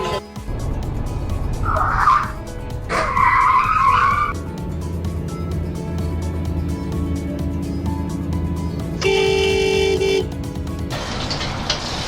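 Dashcam crash footage with a truck unable to stop and a car changing lanes too late: loud engine and road noise, tyres squealing in short bursts, and a long steady horn blast near the end.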